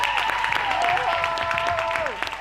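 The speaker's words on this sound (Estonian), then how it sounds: "Teeme aplausi." Audience applause at an Estonian open-stage concert, rising as the first performers, the Niimanns, are introduced; dense steady clapping close by, with a sustained tone and other sounds running through it.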